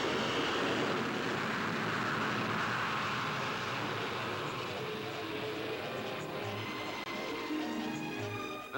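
Vickers Super VC-10 jet airliner in flight, a steady, loud broadband jet roar that holds for the whole stretch with little variation and no voices.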